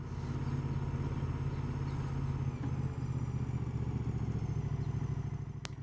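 A Moto Guzzi motorcycle rolls along at slow speed through a 20 limit zone, its engine a steady low throbbing rumble throughout, close and continuous with faint clatter and no talk.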